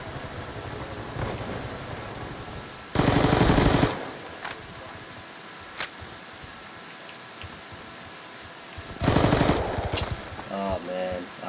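Two loud, dense bursts of automatic gunfire from a team deathmatch video game, each lasting about a second, with lighter game sounds and a brief spoken voice in between.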